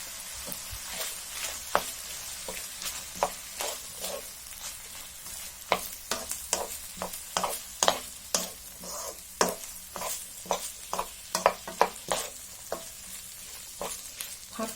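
Stuffed-egg filling with tomatoes is stir-fried in a pan, giving a continuous oily sizzle with many quick, rhythmic spatula scrapes and taps close by.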